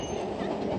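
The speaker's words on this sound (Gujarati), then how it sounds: "ચાલો આ ટ્રેન ચાલી" A train rolls along in Daman, heard as a steady, moderately loud rumbling roar of wheels on rails that stays constant throughout the short stretch, with no voices.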